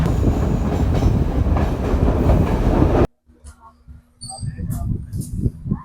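A loud, dense rumble of a train running on tracks in Sri Lanka cuts off abruptly, followed by quieter scattered sounds and faint talking.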